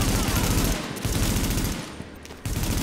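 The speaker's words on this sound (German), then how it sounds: "Sofort schießen." Rapid automatic gunfire rattles in Tom Clancy's The Division, loud close bursts with a brief lull around the middle before shooting picks up again.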